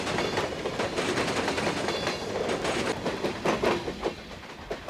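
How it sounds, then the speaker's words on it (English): A Grand Trunk coal train rolls past on the tracks, its wagons producing a steady, close, rhythmic clickety-clack of wheels over rail joints with rattling metal, loud throughout and no voices. "After the Grand Trunk train passes"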